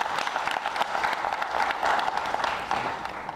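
A crowd at a political welcome gathering claps for the candidate, dense steady applause filling the space from start to finish.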